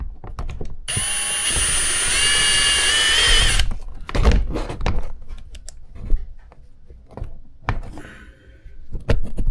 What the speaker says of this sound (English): So what I'll do is I'll drill a hole here.